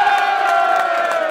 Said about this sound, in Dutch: dat verdient een applaus